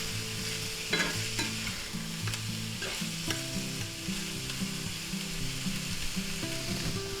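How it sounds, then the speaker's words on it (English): Mildly hot green peppers fry in a pan with a steady, close sizzle while a utensil stirs them, scraping and clicking against the pan at irregular intervals, with no voices. "we're going to add our green peppers, mildly hot green peppers. And we're going to give them a little stir"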